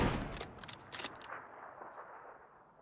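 Gunfire in the video game PUBG: a quick burst of several sharp shots in the first second, then a fading echo and one faint later shot.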